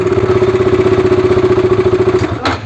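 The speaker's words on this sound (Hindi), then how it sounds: "तो दोस्तों इसमें कुछ इस तरीके का साउंड आ रहा है और इसके इंजन में से भी नॉइज़ आ रहा है" A KTM Duke 200 motorcycle engine with a fault idles loudly and steadily, a throbbing rhythmic pulse with mechanical noise, ending in a brief burst of higher noise near the end.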